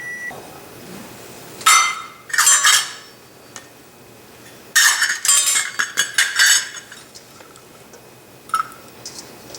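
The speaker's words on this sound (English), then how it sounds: "I am going to take 2½ cups of blackberries and mix them with 1 cup of sugar" Blackberries and sugar are stirred together in a bowl, with bursts of spoon and utensil clinks and scraping against the dish in uneven clusters, loud and close, separated by quiet pauses.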